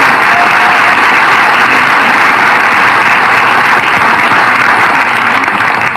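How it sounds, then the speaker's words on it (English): A crowd at a Florida political event applauds loudly and steadily, a thick wash of clapping with a few faint cheers that holds evenly throughout and has no speech over it. "Give them a round of applause."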